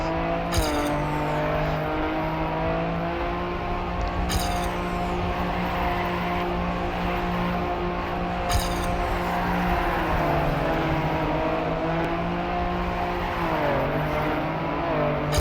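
A rally car in the Trackmania racing game drives with a loud, continuous engine drone that shifts pitch as it revs, with tire-slide squeals while sliding through corners, and no talking.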